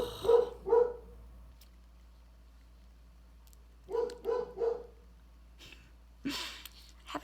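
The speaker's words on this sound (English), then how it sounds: "Dogs barking." Several dogs barking indoors in short bursts: two quick barks, a pause, then three more in a row and a final yelp, fairly close with quiet room tone between.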